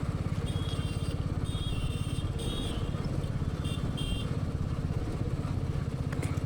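Motorcycle riding along a road on a group ride in India, a steady close engine drone with rhythmic pulsing and some rattle that runs continuously at an even loudness throughout, with no talking.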